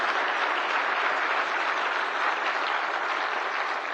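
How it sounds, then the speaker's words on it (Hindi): An audience at a Gujarati book launch ceremony bursts into sustained applause, steady loud clapping from many hands filling the hall without a break. "सभी लोग जरा जोर से गौतम भाई के लिए ताली बजाइए जरा।"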